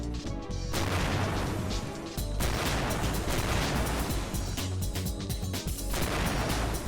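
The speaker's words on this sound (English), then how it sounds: "I guess it was now time to give the bomb glove a proper test." Bomb glove blasts from the Ratchet and Clank game fill the scene with dense, loud booming explosions and crashing debris that roll on almost without pause, layered over game music and effects.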